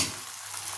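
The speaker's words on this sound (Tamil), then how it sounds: "ஆயில் போட்டு வச்சு கலக்கி வச்ச முட்டையை ஊற்றிடுங்க." Beaten egg hitting a hot oiled pan for a bread omelet, a soft hiss of sizzling that swells slightly and holds steady, close and fairly quiet with no talk.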